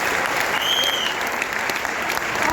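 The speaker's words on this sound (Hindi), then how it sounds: "एक बार दिल से बजा दीजिए जोरदार तालियां" Sustained, loud audience applause fills a success seminar hall in Delhi, a dense even roar of clapping hands from start to finish with no pauses.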